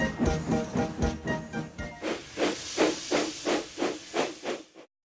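A steam locomotive whistle sounds briefly, then gives way to rhythmic, hissing chuffs of steam that fade out at the end.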